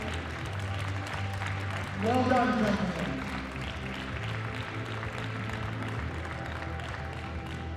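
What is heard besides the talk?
audience applause at bench press championships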